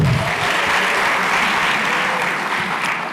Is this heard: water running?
no